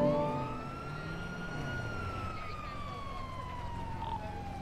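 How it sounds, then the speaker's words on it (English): A police siren in a roleplay video game wails and sweeps steadily up and down, loud and continuous, sounding briefly alongside another siren tone at the start. "I hear sirens on."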